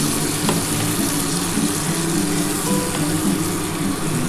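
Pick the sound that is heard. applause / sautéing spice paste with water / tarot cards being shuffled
sautéing spice paste with water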